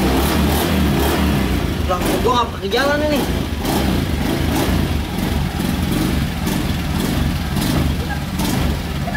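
A motorcycle engine runs loudly and continuously close by, a rough steady drone under brief talking.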